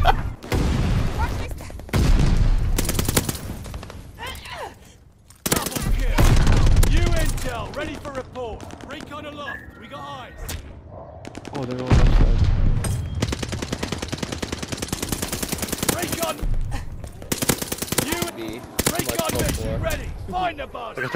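Rapid gunfire in the Call of Duty Vanguard multiplayer game, aimed at an enemy's riot shield, comes in loud sustained bursts with short breaks between them, mixed with other game noise and some talk.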